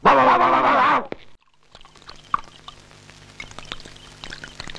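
A drink is poured into a glass in a steady, splashing gush of about a second, followed by quiet clinks and small liquid sounds in a near-silent room.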